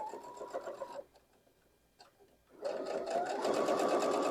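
Home sewing machine stitching quilt fabric over a bulky seam, a steady whirring run that pauses for about a second and a half and then resumes louder and faster, close up with no talking.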